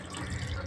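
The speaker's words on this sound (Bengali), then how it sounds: "কিন্তু গরম গরম জল বেরোচ্ছে এই দিক দিয়ে" Hot water running from a tap, a steady close splashing stream heard alone for a brief moment.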